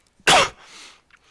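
A single sharp cough bursts out, loud and close, followed by a softer breathy exhale and faint throat sounds.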